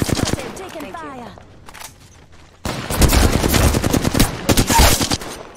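Gunfire in the Apex Legends video game: rapid bursts of automatic shots, loud and close, with a dense sustained volley in the second half mixed with game effects and a voice.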